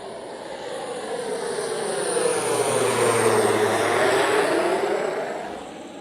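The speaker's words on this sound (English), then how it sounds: "Wow, that's a big-ass plane." A large airplane flying low overhead, its engine roar swelling steadily to a loud peak midway and then slowly fading, heard alone with no talk.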